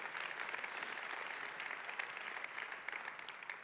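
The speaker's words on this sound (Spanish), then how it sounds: "Dale un fuerte aplauso al Señor." A church congregation applauds loudly and steadily throughout, a dense, sustained wash of clapping with no talk over it.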